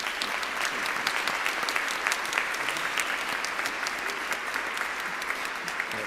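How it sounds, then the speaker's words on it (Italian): Steady applause from a congregation at a Christmas Mass, dense clapping sustained throughout at an even level, with no voices standing out. "E noi approviamo con un nostro applauso"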